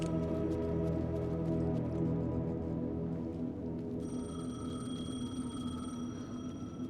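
A payphone rings in the video game Alan Wake 2, with a steady electronic ringing tone that joins partway through over a dense, droning ambient game soundscape.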